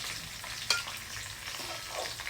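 Pork steak frying in a pan, a steady soft sizzle with one brief clack, heard alone at low level.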